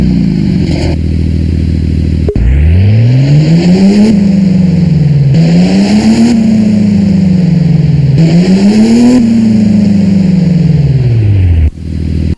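A Porsche 911 GT2 RS in the Driving Empire video game starts up and then revs in repeated rising and falling sweeps, the loud engine note running continuously and cutting off abruptly near the end.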